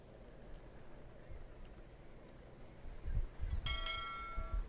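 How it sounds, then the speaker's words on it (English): A ship's bell in the Carmen Sandiego video game rings once near the end, bright and clear with a ringing tail, after a low rumbling stretch. "Ring that bell and anchors away."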